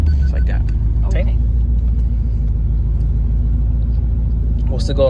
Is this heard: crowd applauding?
no